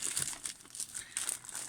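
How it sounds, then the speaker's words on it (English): Cardboard box being pulled open by hand during an unboxing, giving repeated crinkling, tearing bursts close to the microphone, fairly quiet and irregular with no talking. "I'm just pulling the box back"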